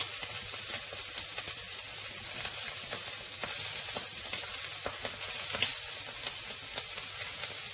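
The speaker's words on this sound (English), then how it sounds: "So I've got the pan on high heat to get as good a sear as I can as possible" Prawns sear in a pan over high heat for a prawn pasta, giving a steady, close, loud sizzle full of crackling pops and spits, with no voices over it.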